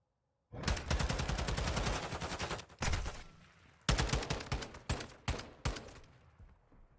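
Rapid automatic gunfire in the Call of Duty Modern Warfare 2 video game, loud sustained bursts followed by shorter volleys and single cracks, with no talking.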